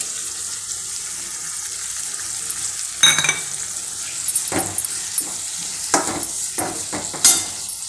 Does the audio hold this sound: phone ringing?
no